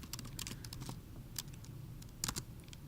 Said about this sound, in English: I'm going to type in the word color.